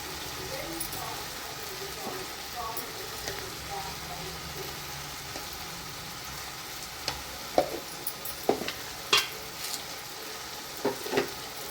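Tomatoes sautéing for tomato chutney sizzle steadily in a pan with a constant frying hiss, punctuated by a few sharp scraping stirs and clinks near the end.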